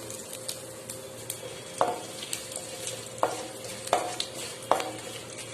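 Steady oily sizzle and crackle of frying with asafoetida, with a few sharp clinks of a spoon or ladle against the pan at irregular intervals.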